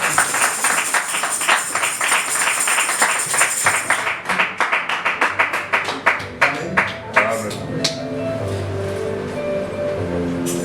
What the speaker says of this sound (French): Acclamons le Seigneur notre Dieu.